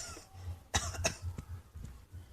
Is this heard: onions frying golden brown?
no